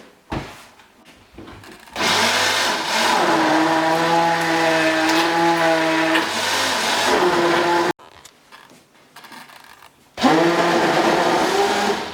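An electric blender whirs loud and close while mixing a chocolate preparation, one long steady motor drone that cuts off, followed by a short quiet gap and a second burst.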